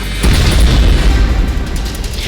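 A loud, deep boom that spreads into a sustained roaring rumble, filling the whole moment with heavy noise.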